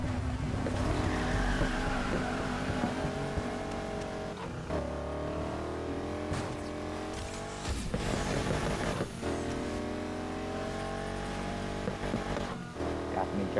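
A car drifts sideways in a racing video game, with a whining engine that rises and falls and tires squealing and skidding. The sound is loud and continuous, with brief sharp bursts at a few points.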